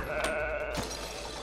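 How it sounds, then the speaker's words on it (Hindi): Sheep bleats from the co-op video game It Takes Two, a wavering animal call that rises twice, fairly close and clear, over a steady background of game music and ambience, with no talking. "उसके बाद भेड़"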